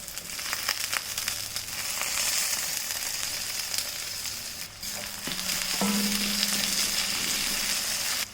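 Slit green chillies sautéing in hot oil in a pan for biryani, a loud continuous close sizzle with scraping stirring strokes and a few soft knocks of the spoon, no voices.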